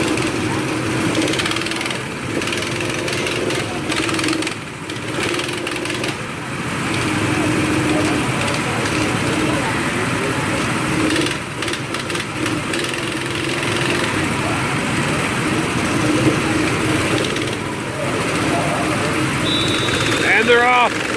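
Go-kart engines idle and buzz in a steady mid-pitched drone as karts line up for a speedway race at Six Flags Over Texas, with a voice talking over the continuous motor noise.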